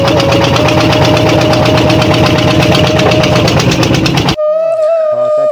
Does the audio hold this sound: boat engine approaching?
yes